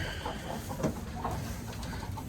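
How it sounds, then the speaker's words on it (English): Chickens cluck and squawk steadily inside a barn set up as a goat kidding pen, with a louder squawk near the middle and a dense, continuous background of fowl calls. "These chickens are crazy."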